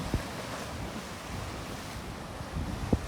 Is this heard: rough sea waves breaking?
yes